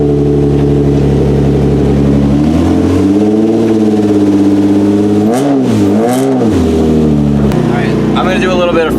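Nissan 350Z with a God Snow catback exhaust, raspy tone, idling loud and steady before sharp rising and falling revs near the end, with a voice heard briefly over it.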